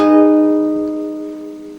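One four-string guitar chord on the fifth to second strings rings out close and clear, its strike at the very start, then decays steadily with no voices.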